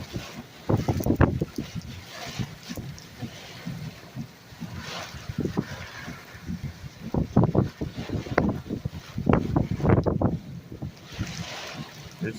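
Strong west-northwest wind during a late-afternoon summer storm with straight-line gusts, roaring against the microphone in uneven, surging bursts that rise and fall continuously, close and loud.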